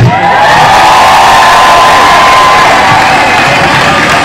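A large crowd at the Kona race finish cheers and roars continuously, loud and dense, with whoops and shouts rising from the mass of spectators.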